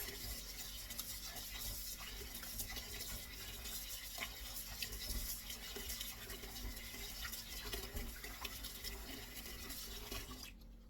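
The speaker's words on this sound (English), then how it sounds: "Washing it with plain water first." Kitchen tap water running steadily into a sink while raw meat is rinsed, a soft continuous hiss and splash with faint handling noises, quiet and unbroken for the whole stretch.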